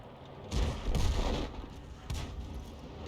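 An M44 self-propelled gun in a tank battle game fires artillery shells: two or three heavy, muffled booms spaced about a second apart over a steady low engine rumble. No talking.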